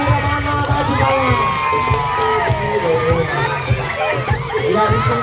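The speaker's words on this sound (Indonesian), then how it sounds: "Tepuk tangan buat Mira" Audience at a Ramadan youth fashion show competition cheering and shouting loudly, with children's voices, whoops and lively crowd chatter throughout; clapping is not clearly distinct in the din.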